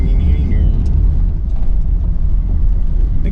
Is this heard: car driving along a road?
yes